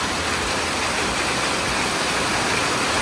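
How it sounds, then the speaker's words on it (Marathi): Steady, dense downpour hissing across the whole spectrum, a continuous roar of heavy rain with no pauses and no voices. "पाऊस काय मनावरच घेतला नाही पावसाने जायचं काय नाव घेत नाही"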